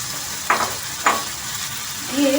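A ground spice paste of turmeric, coriander, cumin, pepper and chilli sizzling as it is stir-fried in a pan, with two brief scraping strokes over a steady hiss.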